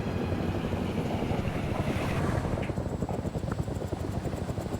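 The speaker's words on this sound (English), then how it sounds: "Humvee is heading out." Humvee driving off in the game World in Conflict, a steady rumbling engine with wind-like noise that fades slightly as the vehicle pulls away, no talk.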